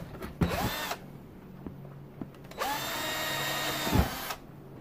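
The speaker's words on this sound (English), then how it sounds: "using a 3/16 drill bit, we can drill through these holes once again." Two short bursts of a power drill with a 3/16 bit whining up to speed and boring through plastic, with quiet pauses and small clicks between.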